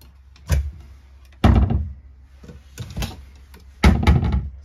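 The reinforced pantry door in the kitchen of a 2013 Open Range 305 BH bunk model RV is opened and closed, giving several close, distinct thumps and rattles spaced a second or two apart.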